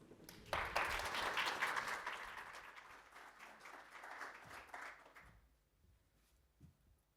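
An awards ceremony audience in Lisbon breaks into applause for a bank director called to the stage, a full wash of clapping that swells, holds, then fades out to near quiet.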